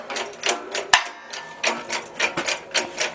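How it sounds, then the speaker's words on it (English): A shop press works wheel studs out of a Willys hub, producing a series of close, uneven mechanical knocks and grinding pulses with one sharp metallic bang. "I got Matt on the press here, and he's working the studs out."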